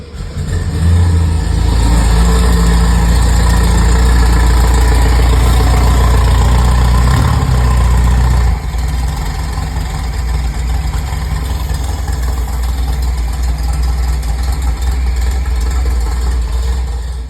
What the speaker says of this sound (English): got the engine running the other day